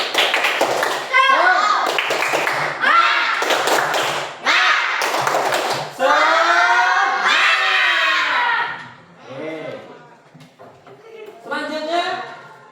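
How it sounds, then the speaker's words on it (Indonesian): A primary school class performs a rhythmic spirit clap (tepuk semangat), with sharp patterned bursts of many hands and children's voices chanting along, fading into lively classroom chatter. "Mari kita tepuk semangat dulu."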